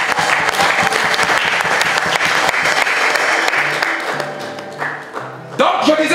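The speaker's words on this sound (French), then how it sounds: "Est-ce que nous pouvons acclamer pour notre maman Paul?" A church congregation breaks into loud, sustained applause for Mama Paul during an evangelist's service, dense clapping filling the room before thinning briefly and swelling again at the end.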